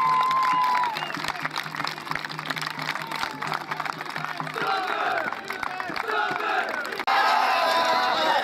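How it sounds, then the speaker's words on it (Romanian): Crowd applauding and cheering for the Terra Dacica Aeterna reenactment group from Cluj-Napoca, a dense roar of clapping and shouts with voices rising over it, swelling louder near the end. "Aplauze încă o dată pentru membrii Terra Dacica Eterna din Cluj-Napoca"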